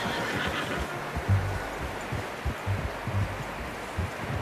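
A horse in the game Red Dead Redemption 2 whinnies softly amid low rustling and shuffling, with a few faint thumps scattered through the short stretch.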